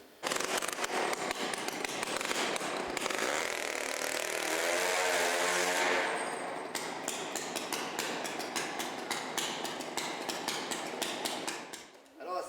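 A chainsaw roars loudly and continuously, its engine pitch rising and falling with revs and choppy bursts as it cuts.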